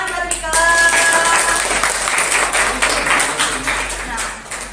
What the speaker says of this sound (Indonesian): Tepuk tangan buat Mika.